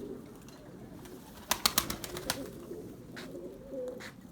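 Pigeons and their young coo softly in a loft at close range, with a short burst of sharp flapping or clapping sounds in the middle and faint chirps near the end.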